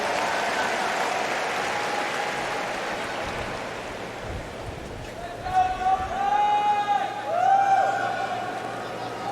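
A tennis crowd at a US Open semifinal between Djokovic and Alcaraz claps and cheers in two swelling bursts, with general arena murmur before them and a commentator's voice running over the noise.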